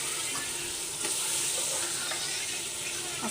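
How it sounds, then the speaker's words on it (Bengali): Biryani cooks in a pot with a loud, continuous hiss of frying and a few faint stirring scrapes, close up and unbroken throughout. "আজকে মেয়েরা বিরিয়ানি খাইতে চাইলো, তাই বিরিয়ানি রান্না করে দিতেছি"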